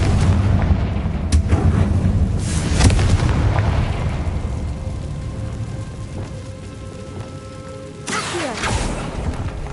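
Spell explosions from Bombarda and Confringo in Hogwarts Legacy on PS5 boom repeatedly over a dense game soundscape, with loud bursts and rumbling blasts near the start, around the three-second mark and again near the end.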